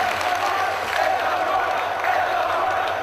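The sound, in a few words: crowd of fans applauding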